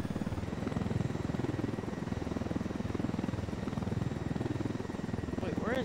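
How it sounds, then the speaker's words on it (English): A helicopter in an online video game thrums with a steady, close rotor beat throughout, and a voice chimes in near the end. "I'm gonna get that white helicopter."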